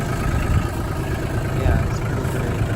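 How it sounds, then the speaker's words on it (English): The diesel engine of a John Deere Gator 855 utility vehicle runs at a steady idle on a farm, a close, even low rumble with no change in pace. "it's a John Deere Gator 855. It's pretty awesome. Got a diesel engine in it"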